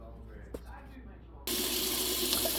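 A moka pot being rinsed under a running kitchen tap, with a steady, fairly loud rush of water that starts abruptly partway through and continues to the end, no soap in use.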